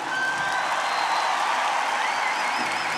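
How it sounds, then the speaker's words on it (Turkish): A concert crowd at İnönü applauds a cümbüş player, broad sustained clapping and cheering with a few high whistles cutting through, filling the whole span at an even level. "Kendisi için büyük bir alkış alabilir miyiz?"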